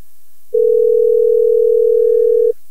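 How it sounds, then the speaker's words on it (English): A telephone dial tone comes back after a dropped cell phone connection, a single steady tone that starts abruptly and holds for about two seconds before cutting off, loud and alone. "I think we lost your cell phone connection."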